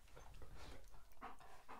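A dog pants hard right up close, giving quick rhythmic huffs of breath with wet, slobbery texture. The panting is loud and continuous and carries no speech.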